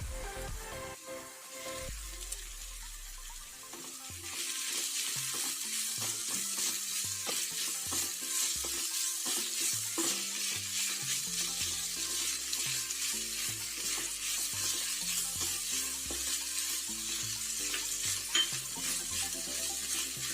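Food being mixed in a hot pan for potato chicken lollipop, a steady sizzle with scraping stirs, faint at first and then louder and continuous, with no talking.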